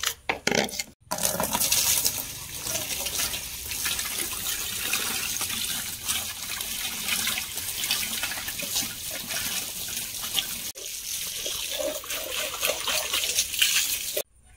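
Water poured over a plastic bucket to rinse it, a steady rushing splash with spattering against the plastic, continuous and fairly close, briefly interrupted near the start and again toward the end.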